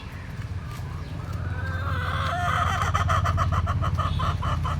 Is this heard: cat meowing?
no